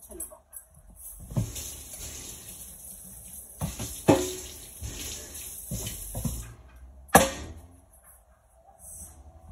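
A kitchen utensil rinsed under a running tap during potato pakora preparation: flowing water with several sharp knocks and splashes as it is handled in the sink, close by, with a voice briefly heard.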